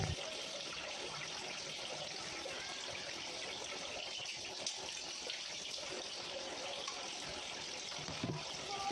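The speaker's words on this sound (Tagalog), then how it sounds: "hinugasan ko na guys yung ating papaya guys bago natin timplahan" Water running steadily from a tap as papaya is washed for a kinilaw salad, a constant splashing hiss with faint clinks, low in level, with soft speech in the background.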